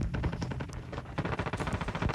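A Switchblade gun fires in a video game in rapid automatic bursts, a dense stream of punchy shots forming a continuous rattling volley, fairly close with no talk over it.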